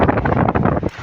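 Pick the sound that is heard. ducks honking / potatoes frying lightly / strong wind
strong wind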